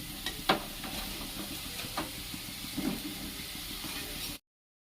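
Taro (kochu) pieces frying in hot oil in a kadai, a soft steady sizzle with occasional light scrapes and clinks as pieces are stirred and lifted out.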